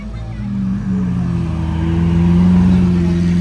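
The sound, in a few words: car with a loud exhaust passing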